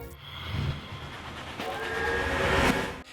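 A train rumbles past with a steady, heavy roll that swells toward the end, with a faint whistle-like tone and hiss over the clatter, no voices.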